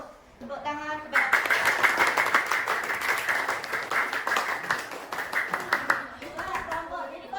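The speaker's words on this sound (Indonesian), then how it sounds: "Tepuk tangan kepada" A classroom of sixth-grade pupils applauds a group after its presentation, with dense clapping for about five seconds that fades into someone talking.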